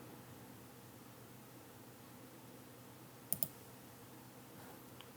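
Two quick computer mouse clicks in a fast double-click sound faintly and close together in a quiet room with a low background hiss.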